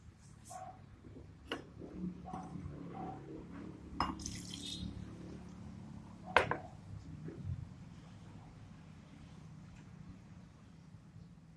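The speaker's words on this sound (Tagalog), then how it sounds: "we need to wash calamansi with water and drain" Calamansi being rinsed in water, with scattered soft drips, splashes and light clinks of the small citrus fruit against a glass or bowl, quiet and intermittent.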